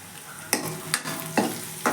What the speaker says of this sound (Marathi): ती पेस्ट मी भाजून घेते